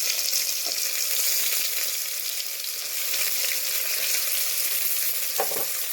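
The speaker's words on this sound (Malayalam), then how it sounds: "ഇത് ഒരു ചെറിയ ബ്രൗൺ കളർ ആവുന്നത് വരെ വഴറ്റാം" Chopped onion sautés in hot oil for a Kerala village-style chickpea curry, giving a steady close sizzle with a few faint scrapes of stirring and no voices.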